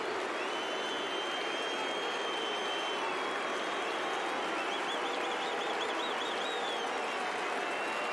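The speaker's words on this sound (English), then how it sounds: "Crowd with the Moose call." A large baseball stadium crowd at a Blue Jays–Yankees game holds a long, sustained droning Moose call, a dense, continuous roar of many voices with a few whistles rising above it.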